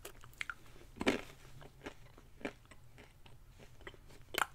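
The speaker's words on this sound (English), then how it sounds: "enough munching" Someone snacking on trail mix, with crunchy bites and chewing arriving in irregular bursts close to the mic and a few louder crunches standing out over a low steady background hum.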